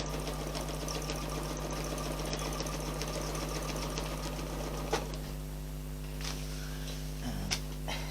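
A sewing machine stitches in the ditch along a quilted table runner with ruler work, running as a steady, close mechanical whir with fast rhythmic ticking under a constant low hum, easing slightly near the end.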